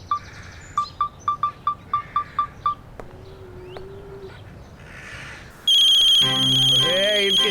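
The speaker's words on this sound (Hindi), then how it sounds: "किसका फोन आ गया भाई?" A mobile phone ringtone sounds as a run of about nine short, evenly spaced electronic beeps, followed by a louder sustained melodic ring. It is set in a Hindi comedy scene, and no one speaks over it.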